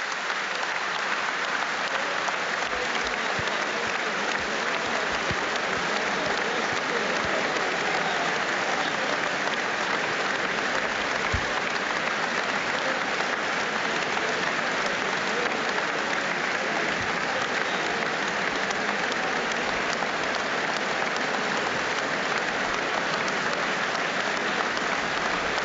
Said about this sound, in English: So in fact that is the applause now you can hear here at Goodison Park